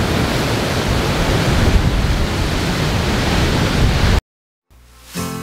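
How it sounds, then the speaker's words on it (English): Huge ocean waves roar steadily below a viewpoint at Puerto Viejo, Costa Rica, a loud continuous wash of surf with wind buffeting the microphone, then a sudden cutoff before quieter surf returns. "Really cool, the waves are huge here."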